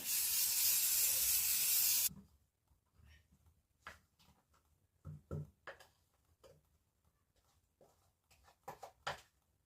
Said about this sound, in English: I'm gonna grease my pan.